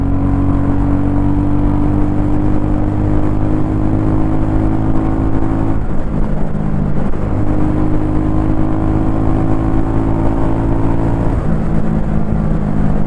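A Royal Enfield Goan Classic 350 motorcycle accelerates in third gear, its steady thumping engine note loud and close with a brief dip around the middle as the drone carries on throughout, no voices.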